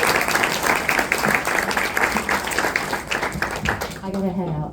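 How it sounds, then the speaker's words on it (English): An audience claps for the panelists at a book release event, loud and dense applause that gives way to voices near the end. "let's give our wonderful panelists a round of applause"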